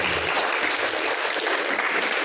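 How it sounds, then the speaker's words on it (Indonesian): An audience claps steadily for an office boy at a customer-service training seminar in Metro Lampung, with dense, loud applause filling the whole stretch. "Tepuk tangan buat office boy kita."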